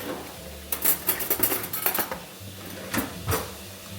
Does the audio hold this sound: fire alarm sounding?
no